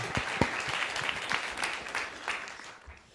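An audience claps at a live master class, with a short, moderately loud burst of dense applause that fades slightly toward the end.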